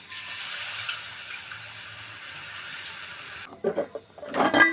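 A soft continuous pour of water into a pan runs for a few seconds, then stops, followed by a few clattering knocks and splashes nearby.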